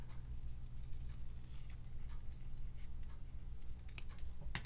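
Scissors snipping quietly through stamped paper to cut out a small dress shape and its neckline, faint repeated clicks and cuts over a low steady background hum.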